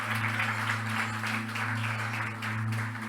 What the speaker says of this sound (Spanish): Dale ese aplauso con vida al Rey de Gloria